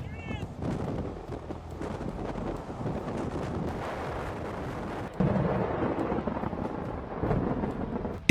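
Thunder rolling through a storm over flooded cities in Gansu, China: a continuous loud rumble mixed with rain and wind noise, with a sharper, heavier crack about five seconds in.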